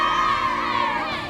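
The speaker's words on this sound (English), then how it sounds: "you can hear our friends, family, even our teachers are out there to cheer for us" A crowd of friends, family and teachers cheers and shouts at a school sports field, a dense, loud wash of mixed voices including children, sustained throughout the brief moment.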